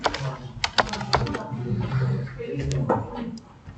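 Rapid clicking of a computer keyboard while typing into a spreadsheet, a near, steady patter of keystrokes under a low voice speaking French.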